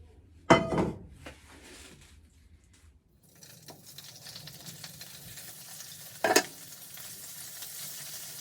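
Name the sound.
frying prawns in a pan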